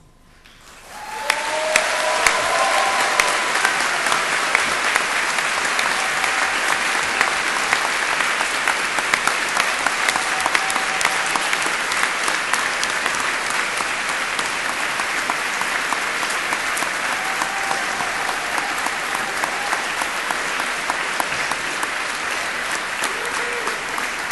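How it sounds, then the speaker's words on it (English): A large audience at a Cardiff University graduation ceremony breaks into sustained, steady applause that rises quickly and continues evenly for a long stretch. "giving an enthusiastic round of warm applause"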